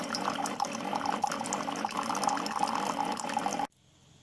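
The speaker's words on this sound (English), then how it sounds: "You see water's coming out to clean out the tubing and all the little parts in there." A Keurig K575 coffee maker runs a cleaning flush, pouring hot water through its tubing into a 12-ounce mug. The stream gurgles steadily and close by, then cuts off abruptly.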